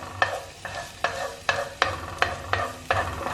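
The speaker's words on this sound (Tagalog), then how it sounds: "Let's saute our garlic." Garlic sautéing in olive oil in a pan, with a steady close sizzle broken by a regular series of scraping stir strokes, about one every half second, and no voices.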